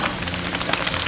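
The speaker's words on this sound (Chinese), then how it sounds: "把油温升到8成热左右，下入鸡块" Chicken pieces dropped into oil heated to about 80 percent hot for a second fry in a Sichuan spicy chicken dish, giving a dense, close, continuous crackling and sizzling.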